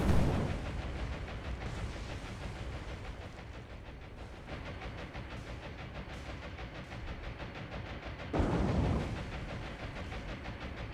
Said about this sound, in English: There we go, 2 good torpedo hits on him.